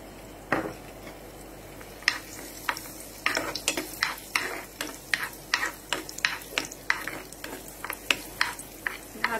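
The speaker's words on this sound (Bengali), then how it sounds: "তেল গরম হয়ে গেছে, এখন কাজু কিশমিশ দিয়ে দিলাম।" Cashews and raisins fry in hot oil in a kadai, a soft sizzle under repeated sharp scraping strokes of a spatula against the pan, close and rhythmic, with no talking.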